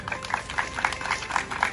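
An audience claps in a hall, a fairly soft, somewhat rhythmic patter of hands that continues evenly throughout.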